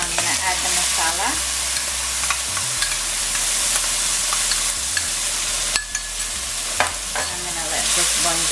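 Masala frying in a pan, a constant loud sizzle with a spoon scraping and stirring through it at intervals, close and busy.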